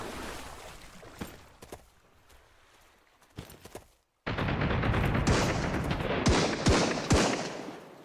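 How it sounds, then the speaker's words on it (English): A .50 caliber machine gun in a video game: a few scattered distant shots, a short silence, then a sudden, loud, sustained roar of heavy automatic fire with sharp cracking peaks. "Looks like he's got a 50 caliber machine gun too."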